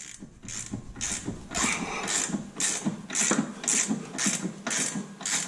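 Ratchet or breaker bar loosening the bottom nut of a coilover on an R32 Skyline, a steady series of about nine evenly spaced clicking strokes, close and fairly loud, with no talking.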